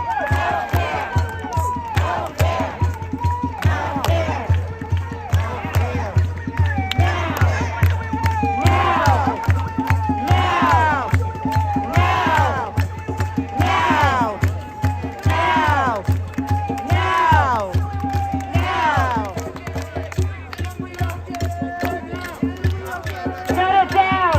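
A crowd at a rally for retiree Medicare healthcare in New York City chants and shouts in rhythmic, repeated calls, loud and continuous, with voices rising and falling together throughout.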